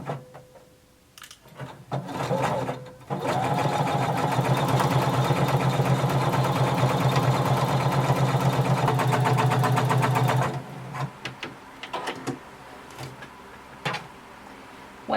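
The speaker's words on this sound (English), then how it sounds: "we're going to be using our zigzag stitch or stretch stitch the entire time we're sewing" A sewing machine runs steadily, stitching a seam in zigzag or stretch stitch, a continuous fast mechanical whir lasting several seconds, with short bursts of stitching and clicks before and after.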